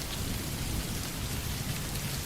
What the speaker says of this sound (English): Like this kind of thunder's nice, but if it starts getting too much louder, it makes me scared.